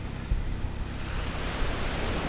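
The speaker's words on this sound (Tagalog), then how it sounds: "Dito lang yung hampas lang ng dagat dito sa baybay." Sea waves breaking on the shore of a beach in Presentacion, Camarines Sur, a steady broadband wash with low rumbling surges, fairly loud and continuous, no voices.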